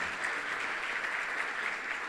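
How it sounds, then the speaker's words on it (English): Audience applauding Daniela Longoria, a high school choir member, at a city State of the City event; a continuous, moderately loud wash of many hands clapping, steady for a couple of seconds. "How about a round of applause for Daniela Longoria"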